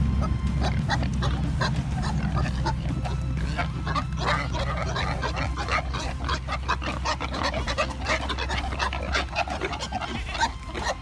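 Pasture-raised pigs grunt and snort in a steady, busy stream close by, with one low rumbling drone underneath the whole time.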